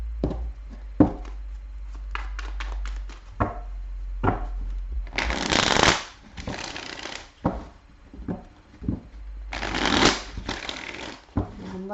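Tarot cards shuffled by hand for a reading, in repeated bursts of riffling and quick papery slaps with brief pauses between, close and fairly loud, no talk.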